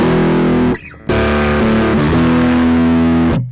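Sterling by Music Man DarkRay bass played through distortion, thick sustained notes ringing loud with a short gap near one second, then a long held note to the end, no voices.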